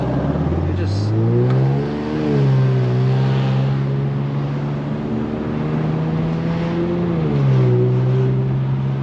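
Infiniti Q50 Red Sport, lowered, pulling hard with turbo boost on city streets at night, its engine note climbing through rising revs, easing off, then surging again, loud and close from inside the car, with voices talking over it.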